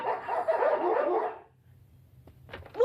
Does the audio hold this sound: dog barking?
yes